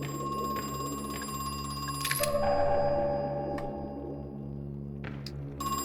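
A telephone rings in Crow Country, a steady electronic trill repeating with short pauses over a low ambient hum, heard clearly with no one talking.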